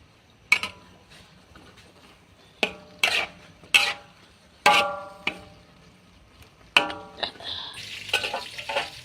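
Onion flowers stir-fried in a pan, with a spatula scraping and clanking against the metal in separate strokes over a soft sizzle, close and fairly loud.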